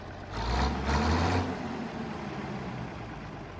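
A vehicle engine in Farming Simulator 22 revs up sharply, swelling to a loud rising whine before settling back to a steady idle rumble, with no talk.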